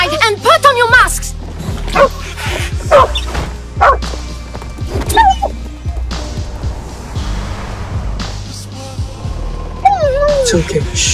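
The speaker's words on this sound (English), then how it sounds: "The dog is trying to warn us!" A small dog barks and yips in quick bursts, up close, over urgent shouting voices and other background commotion.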